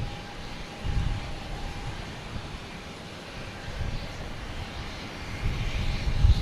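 A Lufthansa airliner at Boston Logan Airport hums as a low, distant engine drone, rising slightly toward the end with no talk over it.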